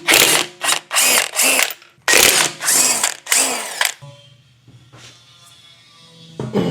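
A power tool rattles and whirs in a series of loud, closely spaced bursts while pulling the wheels off a BMW, then falls to a low hum and faint clicks before a final short burst.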